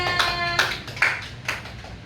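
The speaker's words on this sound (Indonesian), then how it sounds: "Tepuk tangannya." Children clapping in an elementary classroom, a few quick bursts of claps spaced roughly half a second apart after a single ringing tone fades.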